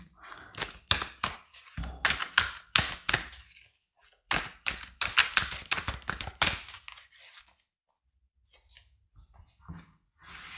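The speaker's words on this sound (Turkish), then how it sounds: "Büyük kağıt kartlarımızdan da alalım." Large paper tarot cards handled close up, with a busy run of crisp shuffling, flicking and slapping bursts, then a pause and a few softer rustles near the end.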